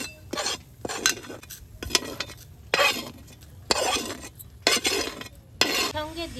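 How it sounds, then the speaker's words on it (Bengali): Black henna powder being stirred and roasted in a pan, with bursts of scraping and clattering from a spoon against the metal, arriving in uneven strokes with short pauses between them, close by and without voices. "এটা নেড়ে চেড়ে নিতে হবে। হ্যাঁ, এইভাবে একটু ভালো করে গরম করে নেওয়া হবে।"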